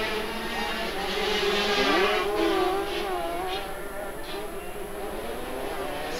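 A 250cc Rotax-engined racing motorcycle at a 1985 race in Christchurch, New Zealand, its engine note rising and falling as it passes, under continuous commentary and crowd noise.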